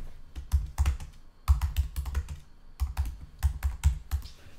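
Fingers tap out a short name on a computer keyboard, close and clear, in uneven bursts of quick keystrokes with brief pauses between them.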